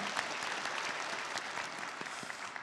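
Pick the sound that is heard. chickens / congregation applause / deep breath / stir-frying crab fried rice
congregation applause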